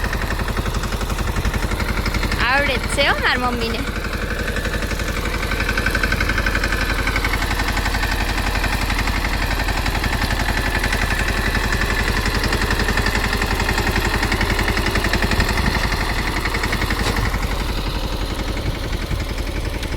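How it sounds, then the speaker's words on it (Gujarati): A tractor driven by a woman on a farm runs steadily and loudly for the whole stretch, a continuous rough engine drone, with a brief spoken remark near the start. "મારી મમ્મી ઝંકારે છે ટ્રેક્ટર."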